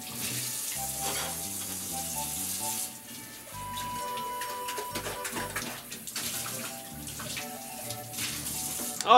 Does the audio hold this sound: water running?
yes